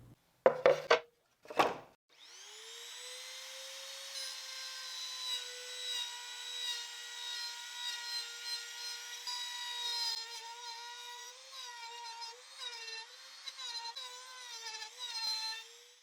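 A wood router makes a gradual shallow pass through a wood scrap: a few knocks, then a sustained high motor whine with a tonal edge that wavers as the bit cuts.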